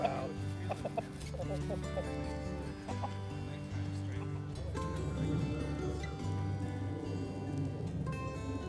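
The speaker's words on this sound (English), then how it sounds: "Come on, chickens!" Chickens cluck on a ranch, with a rooster among them, in a steady chorus of short clucks under a low background hum, while a person speaks briefly nearby.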